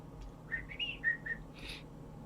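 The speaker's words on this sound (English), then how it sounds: "I shall sit whistling for a couple of seconds" A person whistles a short, wavering tune of four or five notes while waiting, followed by a brief breathy hiss, close and fairly soft in a quiet room.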